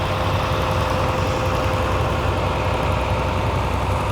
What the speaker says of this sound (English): Another John Deere, that's a 4020.